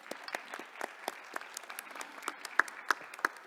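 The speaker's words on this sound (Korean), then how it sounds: "박수 한번 쳐주시죠." Audience at a ministerial forum on sustainable wood applauds the speakers and ministers, a fairly quiet, steady patter of scattered claps in a hall with a few sharper individual claps standing out.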